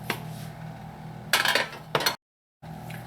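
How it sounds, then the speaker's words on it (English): Pizza dough is moved into a non-stick pan with a few close clinks and scrapes of metal on the pan. Two short bright bursts come in quick succession, then a brief gap of silence. "I'm going to transfer my dough to my pan."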